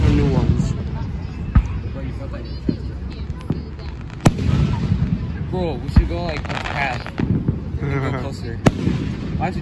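Fourth of July fireworks launching in quick succession, with repeated sharp bangs, crackles and whistling rising streaks. The bursts are loud and layered, and people talk throughout.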